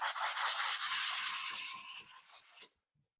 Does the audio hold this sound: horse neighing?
no